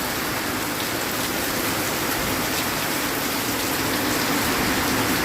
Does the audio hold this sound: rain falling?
yes